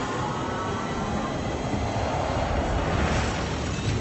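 A tram ride in the Deadpool VR video game rumbles along steadily, with a continuous rail clatter and faint wheel squeal at moderate loudness.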